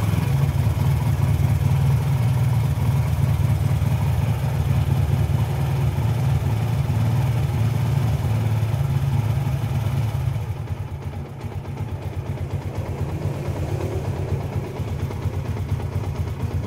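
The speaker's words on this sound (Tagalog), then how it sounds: "dapat medyo uminit ito habang umaandar yung motor." A Yamaha Sniper 150 motorcycle with an Error 46 fault idles close by, a steady low engine drone running throughout with a slight drop in level near the end.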